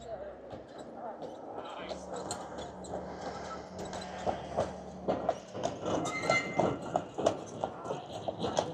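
A horse-drawn tram passes close by, its hooves clip-clopping in a steady rhythm over a busy street bed, with someone talking over it.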